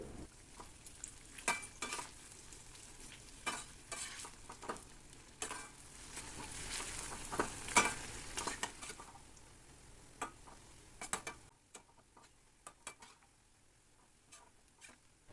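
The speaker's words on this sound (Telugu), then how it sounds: "ఆయిల్లో వేసుకొని డీప్ ఫ్రై చేయాలి" Onion pieces deep frying in hot oil, a steady crackling sizzle with scattered sharp pops and stirring clicks, fairly close, fading quieter near the end.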